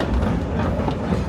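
An amusement park train ride rolls along in a loud, continuous rumble with low clattering wheel noise and no voices.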